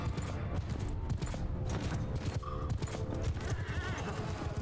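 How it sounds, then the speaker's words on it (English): Many hooves pound in a dense, continuous rumble of galloping, with clashing and scattered impacts mixed in, loud and busy throughout, as horse archers ride in a battle in the video game Mount & Blade II: Bannerlord. "Okay, horse archers come up."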